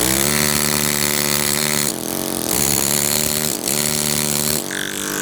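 A pneumatic carving chisel chatters loudly and steadily against a granite block being squared. The noise runs almost without a break, with brief dips in pitch and level as it bites.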